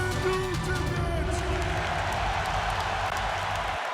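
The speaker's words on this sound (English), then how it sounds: "Laker fans, give yourself a round of applause." Lakers fans in an arena applaud, a steady wash of crowd clapping and cheering with babble beneath it and a voice over it.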